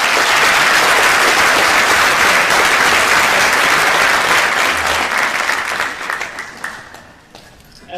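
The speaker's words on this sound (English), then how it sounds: "Please give them a round of applause." A crowd at a high school Veterans Day ceremony claps loudly and continuously, dense applause that holds strong for several seconds, then thins out and fades near the end.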